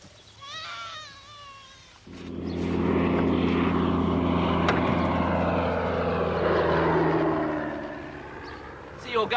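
A vintage aeroplane's propeller engine starts up after a brief voice and then runs steadily and loudly at close range, a dense drone holding for several seconds before easing slightly at the end.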